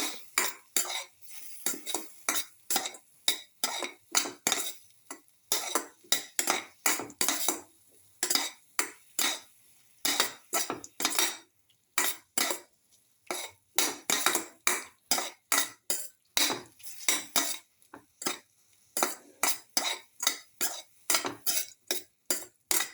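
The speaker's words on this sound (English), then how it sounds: "Keep on sauteing." A utensil scrapes and clacks rhythmically against a pan while garlic, salt and tomato pieces are sautéed, with dozens of quick, close strokes in steady bursts and no talking.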